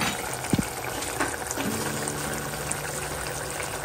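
A pot of Tamil-style dried fish and drumstick curry simmers, giving a steady bubbling, liquid burble close by with a few brief splashy pops, heard alone without speech.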